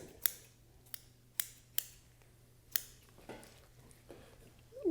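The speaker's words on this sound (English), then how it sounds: "on the wings, you get these tendons and membranes on here. We'll just carefully cut that off." Scissors snip tendons and membranes off a wood duck wing skin, about eight crisp, close cuts at an uneven pace over a quiet background, with no talk.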